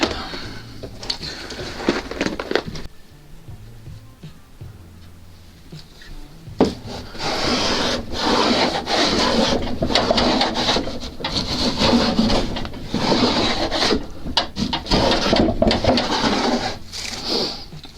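A hand plane cutting across the grain of a guitar body piece on a workbench, giving repeated rough rasping strokes in bursts with short pauses between passes, close and fairly loud.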